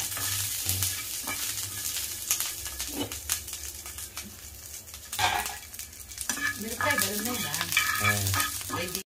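Coriander seeds and chilies dry roast in a pan without oil, making a steady sizzle with stirring scrapes and rattles, close and continuous throughout.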